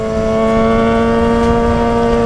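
A Suzuki GSX-R600 motorcycle ridden through Kyiv's streets holds a loud, steady high-revving engine whine with strong sustained harmonics, close and unbroken, with no voices.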